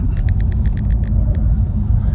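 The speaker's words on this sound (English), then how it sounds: "there's a lorry there. Tesco lorry." A Tesco delivery lorry rumbles past nearby on a road, a loud, steady low engine drone that holds throughout with a few faint clicks above it.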